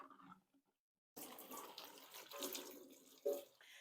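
A silicone candy tray is washed with vinegar under a running tap, with water gushing and splashing close by after a brief quiet pause, rising and falling as the tray is moved under the stream.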